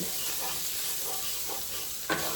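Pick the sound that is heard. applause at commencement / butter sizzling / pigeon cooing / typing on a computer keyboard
butter sizzling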